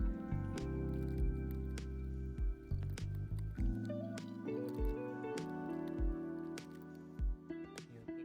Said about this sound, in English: start mixing the paper and water together and just play with it until it looks like a pulp